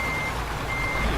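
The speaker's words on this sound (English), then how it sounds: "But I gotta try to park this truck now." A truck in Euro Truck Simulator sounds steady reversing beeps while parking, a tonal alarm repeating over a continuous engine rumble, loud and close with no speech.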